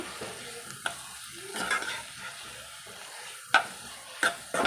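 A spatula scrapes and stirs turmeric and masala in a hot pan for Hakka noodles with sweet corn, giving a low sizzle broken by a few crisp metallic scrapes and taps, close by with no talking.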